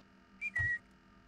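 A short two-note whistle, thin and clear, sounds once within the horror video game Backroom Society, standing alone against faint background hum.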